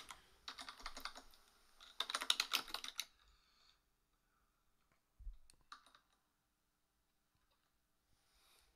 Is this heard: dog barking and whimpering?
no